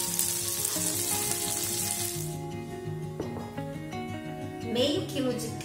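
Chopped calabresa sausage frying in a film of oil in a pan, a loud steady sizzle that fades after a couple of seconds and continues softer with clinks and stirring noises.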